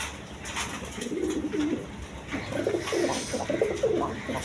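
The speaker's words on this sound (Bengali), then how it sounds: "এক পেয়ার জ্যাকোবিন কবুতর, দেখেন এই যে ডাকতেছে নর" A male Jacobin pigeon coos in repeated soft, low throaty phrases, close by, over a faint background of other birds.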